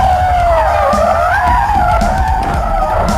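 A car brakes hard under ABS, its tires skidding in a loud continuous squeal that wavers and pulses over engine and road rumble.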